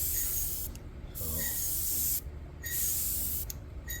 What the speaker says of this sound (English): So I'm just doing a really light spray